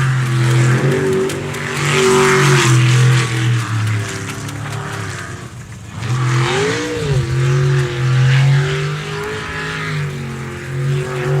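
A race car revs and accelerates at an ASBR Stihl Pro Racing qualifying run. Its loud, close engine climbs and holds a roaring pitch, dips briefly as it shifts, then surges again with faint tire noise.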